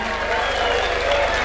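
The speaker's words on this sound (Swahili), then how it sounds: "na sisi, tuwapigie makofi." Audience applause at a political rally in Kenya, a dense steady wash of clapping from a crowd, loud and continuous for the whole moment.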